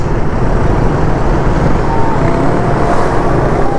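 A metro bus passes in busy city road traffic in Davao City, Philippines, with a steady, loud engine rumble and road noise that continues for the whole stretch without a break.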